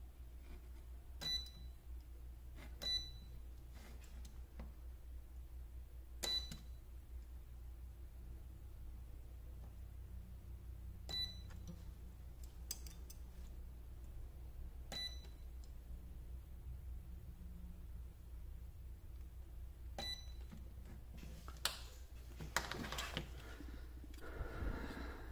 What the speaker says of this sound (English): So we'll leave this in its highest setting and let's do some spot welds